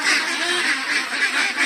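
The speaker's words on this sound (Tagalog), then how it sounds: "At yung mga itik natin ay mga itik pateros." Pateros ducks at a Philippine duck farm, a dense flock quacking and honking continuously at close range, steady and busy with no pauses.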